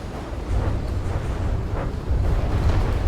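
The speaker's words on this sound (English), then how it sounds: "Looks like we finally got a decent explosion in." Explosion in a block-building video game, a broad low rumbling roar that swells and stays loud for several seconds, with a further surge of booming near the end.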